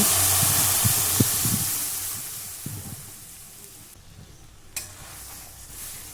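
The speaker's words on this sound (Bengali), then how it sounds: "ডালটা আমি একটু খুন্তি দিয়ে নেড়ে নিলাম" Sizzling in a pan with a few scraping stirs of a spatula through boiled masoor dal early on, the frying hiss fading gradually.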